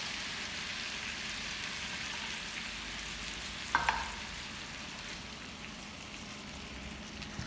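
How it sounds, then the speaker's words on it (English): A soft, even sizzle of crushed tomatoes and tomato sauce cooking with onions in a pan runs throughout, with a brief clink of a utensil midway. "now we're going to let that sizzle and cook with the onions"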